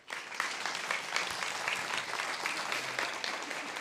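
A crowd at a guide dog school graduation ceremony claps for the graduates, sustained, even applause from many people that holds steady throughout with no speech on top.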